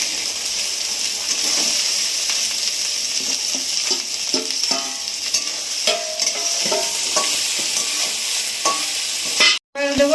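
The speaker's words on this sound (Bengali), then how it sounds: "এবার এই আলু ভাজাগুলো আর নারকেল বাটাটা দিয়ে নারকেল কুচোটা দিয়ে দিচ্ছি" Fried potatoes, coconut paste and grated coconut are stir-fried in a pan for ghugni, giving a steady sizzle with repeated scraping strokes of the spatula and a sharp knock near the end.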